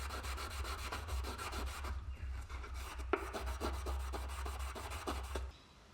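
A handmade marking knife blade gets a light rub, giving quick, rhythmic scraping strokes that are faint and close. The strokes repeat steadily, pause briefly, then stop near the end.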